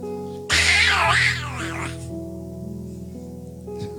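A person in a church audience imitates a cat's yowl with a loud, drawn-out wavering cry that rises and falls for over a second, set against sustained music and room sound.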